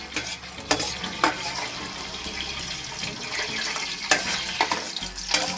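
Vegetables frying and being stirred in a pan for soybean noodles, with steady sizzling broken by several sharp scrapes and clatters of the spoon against the pan, close and fairly loud.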